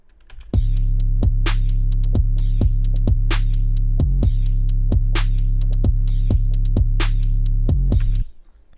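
A drum loop of heavy, booming kick drums layered with a sustained deep 808 bass, with crisp hi-hat or snare hits on top. It repeats in a steady rhythm and plays loud and alone before cutting off.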